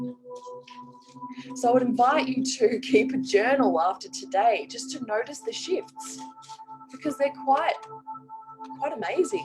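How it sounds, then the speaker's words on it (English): A phone alarm sounds as a steady repeating electronic tone under someone speaking calmly indoors, pulsing faintly throughout. "Sorry, that's my alarm."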